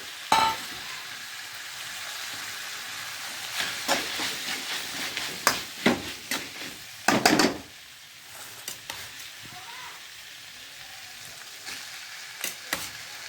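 Rice fries in a hot pan for Chinese fried rice, sizzling and hissing while a utensil scrapes and stirs in bursts, busier in the middle, then the frying settles to a steady hiss.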